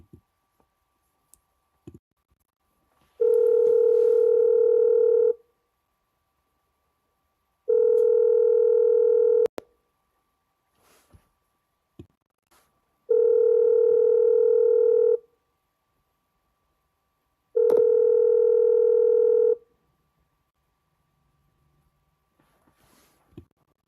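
Telephone line tones from an auto-dialer: four steady, loud ring-back tones of about two seconds each, separated by quiet gaps with scattered clicks and faint ticks.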